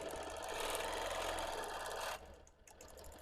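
Domestic sewing machine stitching partial spirals into a half block at the edge of a scrappy quilt, a steady close whirring drone that runs on, then stops abruptly about two-thirds through, leaving only faint room noise.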